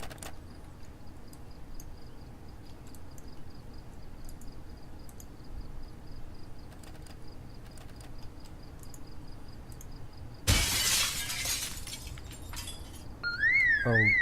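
A window is smashed to break into a bigger house in Project Zomboid: after quiet night ambience with chirping insects, a sudden loud burst of shattering glass, followed shortly by the rising warble of an alarm.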